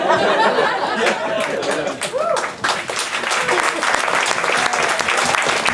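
An audience at a music-festival artist Q&A breaks into applause mixed with laughter and chatter, a steady crowd clapping that swells after a brief dip, with voices and chuckles running through it.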